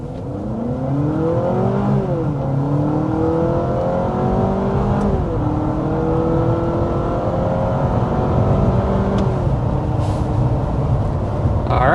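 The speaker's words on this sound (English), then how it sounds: "there we are accelerating to 60 miles per hour, excuse me, with Honda's 2-motor hybrid system" A 2026 Honda CR-V TrailSport with Honda's two-motor hybrid system accelerates hard to 60 mph, heard from inside the cabin. The engine drone climbs steadily in pitch through several stepped rises over a constant road rumble, moderately loud and without speech.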